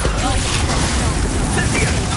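Spell explosions from the Expulso charm in Hogwarts Legacy, dense loud booming and crackling blasts filling the whole clip, with a voice speaking over the chaos.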